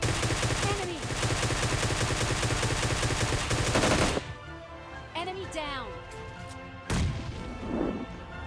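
Gunfire in the video game PUBG, a loud continuous rattle of automatic shots for about four seconds, then quieter sporadic bursts with a single sharp blast near the end.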